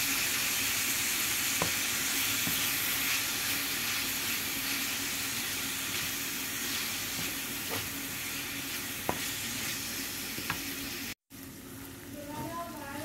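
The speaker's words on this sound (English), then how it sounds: "We're going to give that a good old stir up and cook this off for about 5 to 10 minutes until it's nice and brown" Beef mince with mixed herbs sizzles steadily in a hot pan while being stirred, a continuous close frying hiss punctuated by occasional sharp spoon clicks, with a brief cut near the end.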